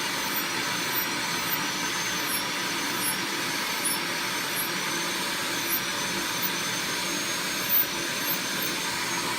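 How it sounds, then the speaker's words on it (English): A shop vac used as a dust extractor for nail dust runs continuously with a steady, loud whooshing roar, and faint high whines from the nail file flicker in and out above it. "most of the dust is going directly into that vacuum"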